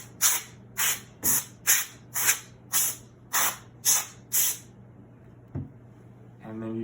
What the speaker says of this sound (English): you should also spray this compartment with some compressed air